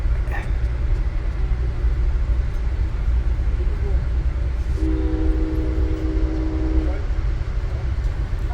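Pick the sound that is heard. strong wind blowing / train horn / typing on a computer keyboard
train horn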